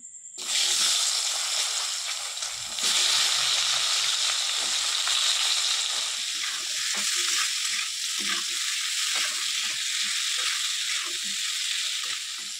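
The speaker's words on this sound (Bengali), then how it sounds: "এবার মাছ ভাজার তেলের ভেতরে আমি বেগুনগুলো ভেজে নেবো।" Eggplant pieces fry in oil left from frying fish, giving a loud, dense sizzle that surges as they are added and continues steadily with occasional stirring clicks, close and alone.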